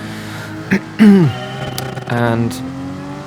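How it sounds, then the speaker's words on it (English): A Gr.4 race car's engine revs hard at the race start at Kyoto in GT Sport, a loud rising whine followed by a second sustained rev, with a brief spoken word beforehand. "the start puts me right into revving into the first gear"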